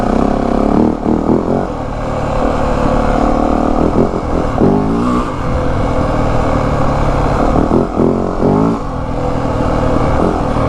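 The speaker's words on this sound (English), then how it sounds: "And the exhaust note is really good too. It's quite a bit throatier and louder than my 250 WR was." A 2025 Yamaha WR 450F four-stroke dirt bike engine runs loud and steady with a throaty exhaust, rising and falling through several revving surges over the whole stretch, with no talk.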